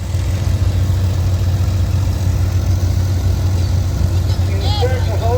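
An antique Farmall tractor engine at a tractor pull drones with a steady low rumble, loud and continuous, with a few faint higher sounds near the end.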